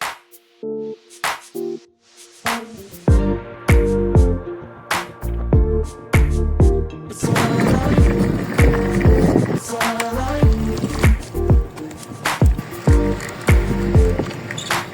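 A rented electric bicycle out on a ride, with rattling, clacking wheel and frame knocks over rough ground, loud and close, irregular bumps building into a busier rumble as the ride picks up, no speech.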